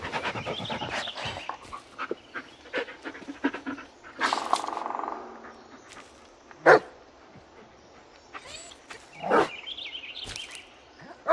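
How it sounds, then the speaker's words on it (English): A dog panting heavily and giving several sharp barks and yips, loud and close, with short whimpers between bursts in a quiet setting. "Yeah, good dog."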